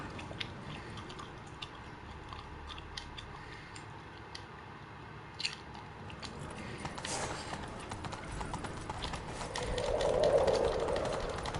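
Faint hoofbeats of a horse galloping in a video game play as a rapid clip-clop rhythm under soft ambience, growing slightly louder near the end.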